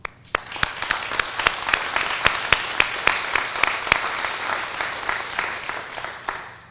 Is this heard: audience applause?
yes